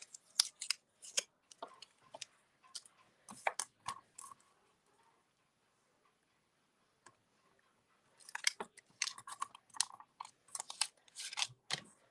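Scissors snipping out a stamped paper piece, in quick bursts of crisp close cuts, a pause of several seconds, then another run of rapid snips; quiet and close, no talking.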